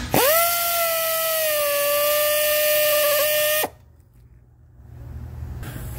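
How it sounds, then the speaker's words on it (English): Air ratchet running down a clutch nut on a Ford Focus DPS6 dual-clutch transmission: a loud high whine spinning for about three and a half seconds, then cutting off abruptly into quiet. "with the air ratchet, I just gave it enough juice to run it down, but not full torque it"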